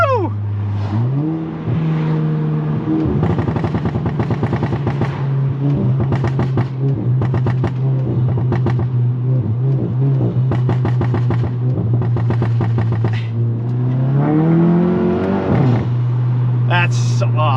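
MK7 VW GTI with a MAP downpipe in sport mode, engine droning under load, then a long series of sharp exhaust pops and crackles on downshifts, loud and close, over a steady engine hum.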